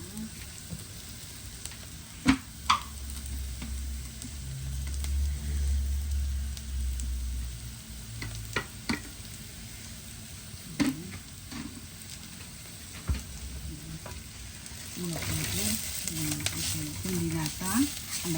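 Steady sizzling of spices and urad dal frying in a pan, with occasional stirring clinks and scrapes, continuous at moderate volume with no talking.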